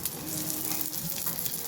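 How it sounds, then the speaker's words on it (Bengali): Eggs fry in a pan with a continuous close crackling sizzle that stays even and fairly loud throughout, with no voices. "শসার পাশাপাশি ডিম ভাজা করলাম"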